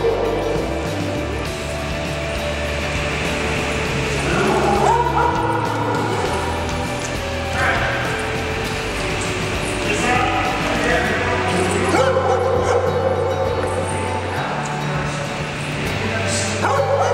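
A reactive dog on a leash during a training session barks, yips and whimpers in repeated bursts over a continuous background, with people talking at times.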